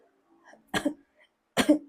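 Two sharp coughs, spaced about a second apart, close and clear against silence.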